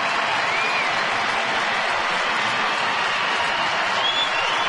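A big Texas Rangers home crowd at an October baseball game against the Angels cheers and claps in a steady, sustained roar, a broad wash of noise with no single voice standing out.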